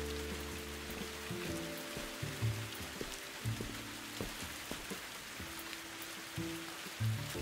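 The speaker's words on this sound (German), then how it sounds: "Es regnet in der Mitte" Rain falling in the video game Viewfinder, a soft, steady patter on a surface, heard alone under low sustained tones from the game's music.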